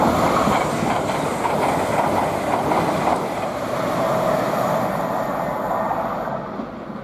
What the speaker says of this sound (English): now passing by, we've got an LNER and Azuma heading from Lincoln Central to London King's Cross